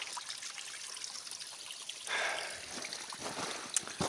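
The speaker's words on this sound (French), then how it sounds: "Il y a des ruisseaux partout." Small streams and thin trickles of water running through a forest, a soft continuous burble heard alone at close range, rising a little louder partway through.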